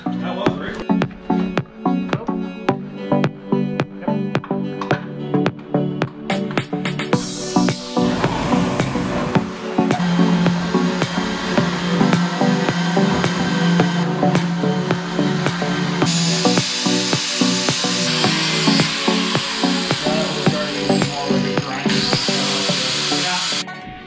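A power tool trimming a Jeep JK fender liner, with bursts of harsh whining cutting that start, stop and run long, loud and close, mixed with scraping and handling noises.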